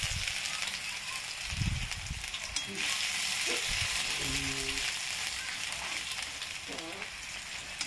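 Panch phoron and ginger sizzle in hot mustard oil in a kadai, a dense continuous frying hiss with occasional clinks and stirring scrapes, close and steady throughout.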